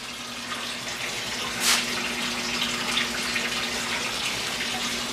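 Water from a Python hose fills a 125-gallon aquarium tank, a steady rushing hiss with a faint hum underneath and one brief louder splash partway through, without speech.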